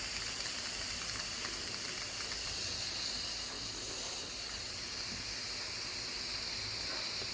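A steady, airy hiss of steam escaping from a pressure cooker with little pressure left runs continuously and fairly quietly, with no voices over it.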